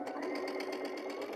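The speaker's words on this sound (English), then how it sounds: "I'm also using my 1/4 inch foot for my sewing machine with the fabric guide." A sewing machine fitted with a 1/4 inch foot and fabric guide stitches fabric at 2.0 stitch length. Its needle chatters in a quick, even rhythm, close-up and steady, in a short burst.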